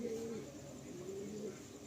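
Large Giribaz pigeons in a loft give soft, low, rolling coos in a couple of drawn-out phrases, close by against a faint background hum.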